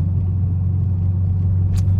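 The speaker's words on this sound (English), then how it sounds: "Sorry, my car's fucking loud." A loud car engine rumbling steadily in third gear with the heat shield missing, a deep constant low drone close by with no talk.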